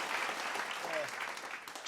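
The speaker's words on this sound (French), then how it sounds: "Tout le monde, on l'applaudit. On applaudit, là." Audience applause with a brief cheer for a guest introduced at a brew shop event, steady dense clapping that holds at an even level and thins slightly toward the end.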